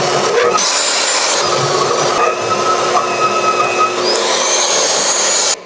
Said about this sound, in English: let's test the old drill press out here. This is 1 3/4 hole saw.